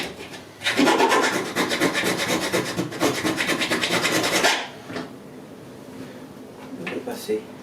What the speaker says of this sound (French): on va terminer à la lime